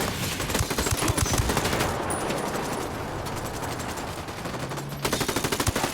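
Automatic gunfire in Ghost Recon Wildlands crackles in rapid, loud bursts, eases into a steadier wash of distant shooting, then sharp close shots pick up again at the end.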